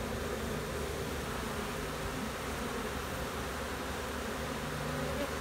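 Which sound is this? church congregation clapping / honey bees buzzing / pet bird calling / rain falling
honey bees buzzing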